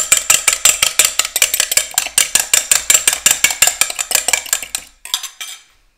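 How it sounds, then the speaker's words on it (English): An egg beaten with a fork in a bowl, a fast steady run of bright clinking taps against the bowl, close and loud, stopping abruptly near the end with a few softer strokes. "I'm gonna put my egg in here and kind of beat it up with a fork"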